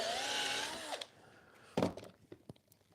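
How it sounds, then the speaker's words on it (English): A power drill bores through a plastic bottle during a woodworking stair build, whirring steadily for about a second, then stopping, followed by a few short knocks and handling clatters. "Just drill it out through the bottle."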